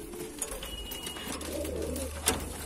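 Madrasi tipler pigeons coo softly and repeatedly, low throaty calls close by over a faint steady background hum, with a few small clicks and no voices.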